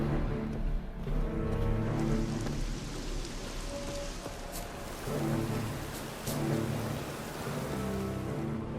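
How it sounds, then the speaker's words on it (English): Steady rain pours in a stormy scene from The Witcher 3: Wild Hunt, with rumbles of thunder rising and falling as a continuous wash under an unvoiced game soundtrack. "Looks like rain."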